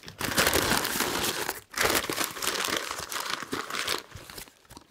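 Butcher paper crinkles and crumples loudly and close up as a beef hammer cut is wrapped for the Big Green Egg, with a steady rustle that dips briefly before continuing.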